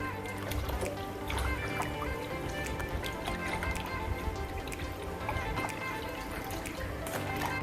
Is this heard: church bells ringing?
no